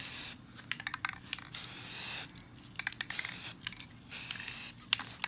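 An aerosol spray can sprays primer onto paddle shifter extensions for a 2016–2023 Chevrolet Camaro, in three close, loud bursts of steady hiss separated by short pauses and light handling noises.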